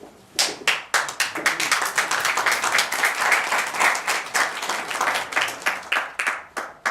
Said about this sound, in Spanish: Son muy generosos ustedes con estos aplausos prematuros e inmerecidos